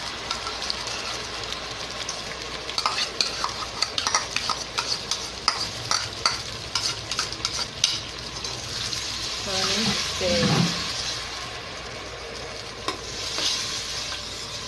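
Blended chili frying in a pot for Nigerian jollof rice, a steady close sizzle with stirring scrapes and a bubbling gurgle partway through.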